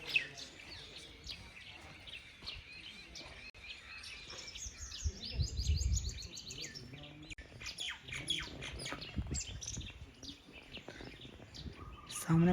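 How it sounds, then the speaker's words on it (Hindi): Many birds chirp and tweet together at an ashram, a dense, busy chorus of overlapping calls heard outdoors at moderate distance, with low rumbling background noise and no speech. "देखो पक्षियों की चहचहाने की आवाज़ कैसी सुनाई दे रही होगी।"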